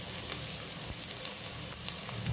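Dried chillies sizzle and crackle in hot oil for a tempering, a continuous close frying hiss with scattered sharp pops and occasional stirring, no talk.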